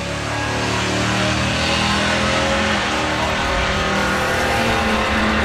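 A drag racing Escort car roars down the strip at a MOPAR Euro Nationals event, heard as a loud, continuous engine drone with broadband track noise, sustained and close without letup.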